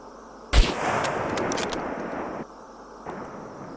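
A sharp gunshot cracks out in the video game SCUM, followed by a rumbling echo, a few clicking sounds and a softer later report, with a steady background hum.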